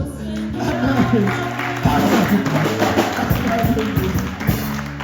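A church congregation during a Sunday worship service applauds and cheers for Jesus with steady, sustained clapping and crowd noise, accompanied by music and voices throughout.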